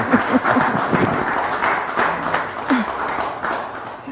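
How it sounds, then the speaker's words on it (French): A studio audience applauds a guest on a talk show, with loud clapping and a few whoops or voices rising in waves over about four seconds. "Est-ce qu'on peut acclamer pour notre invité?"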